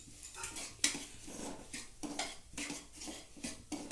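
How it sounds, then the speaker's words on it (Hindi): A metal spoon scrapes and clinks against a pan as semolina is stirred and roasted in ghee, with irregular close scraping strokes and occasional sharper taps. "अब इसी घी के अंदर ये सूजी डाल देती हूँ और इस सूजी को हम थोड़ी सी सेक लेते हैं"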